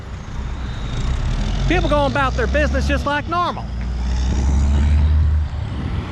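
Cars and trucks driving past on a road beside a trail, a continuous traffic rumble that swells as a vehicle passes, with someone talking over it.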